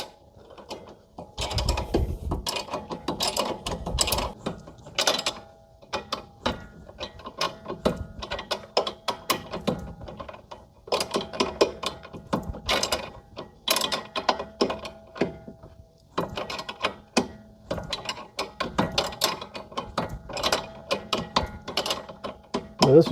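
A control arm bushing bolt on a 2011 Chevy Malibu is tightened with a wrench while the center is held with a Torx, producing close, repeated metallic clicking and ratcheting in uneven bursts, with no talking.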